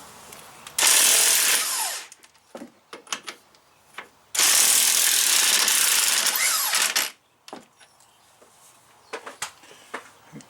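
A socket wrench works loose the strut bolts on a Chevy Equinox front suspension, with two long bursts of harsh mechanical whirring and rattling separated by scattered clicks and knocks.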